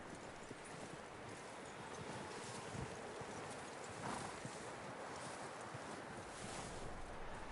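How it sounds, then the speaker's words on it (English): A horse's hooves clip-clop in Red Dead Redemption 2, a quiet and fairly steady rhythm of hoofbeats under a wash of wind noise, with no voices. "That looks like a decent horse."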